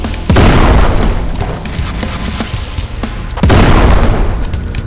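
Two heavy booming explosions from exploding fish thrown by enemies in a video game, each a loud sudden blast with a rumbling tail, the second about three seconds after the first.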